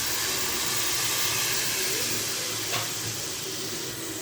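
Strained tamarind water hits hot oil and spices in a pan for Tamil vatha kuzhambu, giving a steady loud broadband sizzle and hiss that holds across the whole stretch with a brief flare near the end, no voices.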